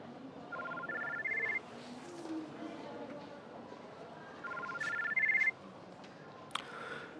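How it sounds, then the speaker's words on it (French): A phone ringtone sounds twice, a short rising three-step electronic melody repeated after a pause, over quiet room noise with faint talk. "Tu devrais changer cette sonnerie et en choisir une plus sympathique."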